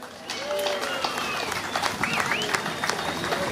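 Outdoor crowd at a May Day USTKE union rally breaking into dense, sustained applause, a wash of many hands clapping at steady volume, with voices and shouts rising through it.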